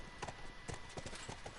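Horse hooves clip-clop on the ground in The Last of Us, a steady run of quick, fairly faint hoofbeats with a light background hum and no talk.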